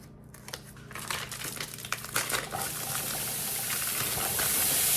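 A plastic package of pre-diced ham crinkles and tears open in a few sharp bursts, then gives way to a rising steady hiss from a hot pan as the cooking noise builds toward the end.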